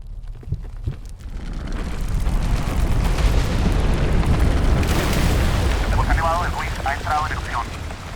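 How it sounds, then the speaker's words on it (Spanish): Nevado del Ruiz volcano erupting in a major explosion with glacier ice sliding, a sustained loud, broad roar and rumble lasting throughout, with a burst of hiss midway and faint higher tones near the end. "se observó una erupción mayor, acompañada de un deslizamiento del hielo glaciar"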